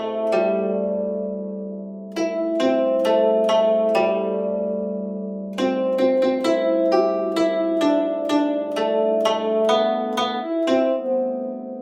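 A simple melody converted from the sheet music printed on the back of a Kuai Kuai coconut snack package, played as clear, separate synthesized notes over a sustained low tone, with two pauses and no voices.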